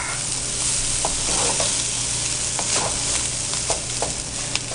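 Rice stir-fried with soy sauce in a hot pan gives a loud, steady sizzle, broken by repeated scraping and clinking stirs close by.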